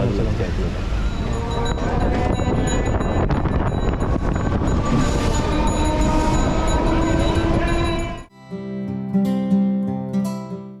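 A passenger train to Lalgola rumbles loudly at Bongaon junction station with broad rushing noise and wind buffeting, then cuts to a quieter stretch with a steady tonal hum; people talk faintly.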